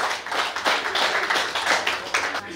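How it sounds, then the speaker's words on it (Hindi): Audience at a live Hindi poetry gathering claps to welcome a poet to the stage, a moderate, busy patter of many hands with uneven swells, heard alone without speech. "अब एक बार जोरदार तालियां बजा दीजिए"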